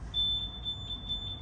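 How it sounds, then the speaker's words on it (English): A motorcycle alarm on a 2018 Triumph Scrambler 800 XRT beeps in the background, a thin high-pitched tone repeating in short pulses at a steady rhythm over faint low rumble. "It does also have an alarm, which is heard in the background."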